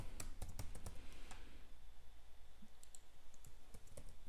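Typing on a computer keyboard while entering fields into an address form, with clustered key clicks that are sharp and fairly close at first, then thin out into scattered, softer taps.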